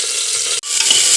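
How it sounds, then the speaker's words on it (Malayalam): Mustard seeds splutter in hot oil inside a pressure cooker, a dense, loud crackling hiss that cuts out for an instant and then resumes. "കടുക് പൊട്ടി വരട്ടെ."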